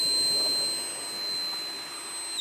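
A cordless blower drying a wet motorcycle roars with a loud, steady high-pitched whine close to the microphone, holding for about two seconds before cutting off sharply.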